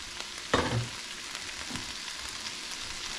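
Ground beef goes back into a hot pan, landing with a sudden loud thump and burst of sizzle, then settles into a steady frying hiss with a faint scrape later, with no talking.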